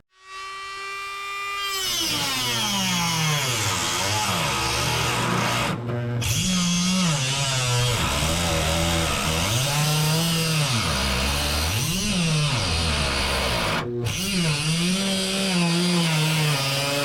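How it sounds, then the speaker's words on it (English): Dremel rotary tool with a cutting wheel cutting into a car fender during a Dodge widebody installation, a loud close whine that spins up then repeatedly dips and rises in pitch as it bites the metal, with two brief pauses. "I'm going to be using the Dremel with a cutting wheel"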